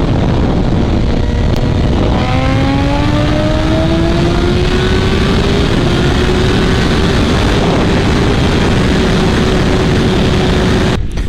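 A BMW S1000RR sportbike with a GP-shift pattern, ridden in South Korea, roars loud and close, its engine note climbing steadily after an early shift and holding a strained, continuous drone over heavy wind rush.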